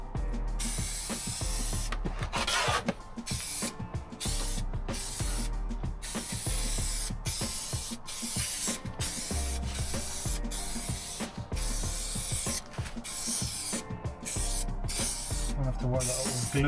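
White spray adhesive hissing from a can in bursts inside a Transit camper van during insulation and carpet fitting, a steady close spray broken by short pauses across the whole stretch.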